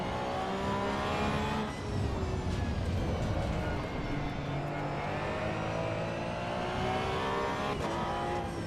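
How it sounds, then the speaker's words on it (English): A Porsche 992 driven in the Assetto Corsa Evo racing game produces a loud, continuous engine drone with rising and falling revs through gear changes, and voices talk faintly underneath. "No, we're driving the Porsche 992 now."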